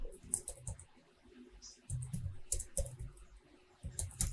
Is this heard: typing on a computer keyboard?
yes